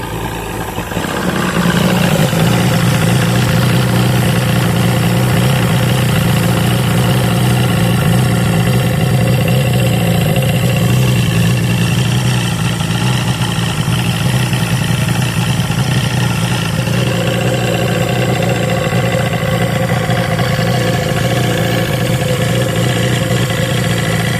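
A loud two-stroke Force/Mercury Mariner outboard motor, burning off fogging oil after choking, runs steadily and continuously at a constant idle-like pitch, close by, with no talking.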